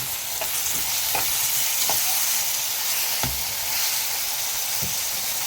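A tomato with a quarter spoon of sugar frying in a hot pan, a loud, steady sizzle close up with occasional soft stirring scrapes and clicks.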